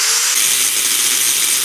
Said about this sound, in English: so I'm going to have to cut it.